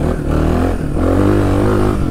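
A Suzuki DR 350 enduro motorcycle revs its single-cylinder engine loudly and close up during a wheelie, a throaty sustained rev that rises and holds for about two seconds.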